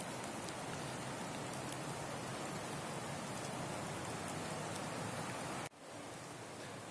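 Light rain falls in a city park with a continuous soft, even hiss of drops. It carries on steadily until it cuts to a quieter wash near the end.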